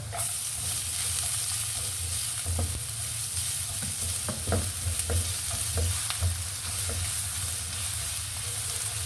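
Chicken liver and garlic frying in a pan for adobo, a loud continuous sizzle close by with frequent spatula scrapes and taps in an uneven rhythm.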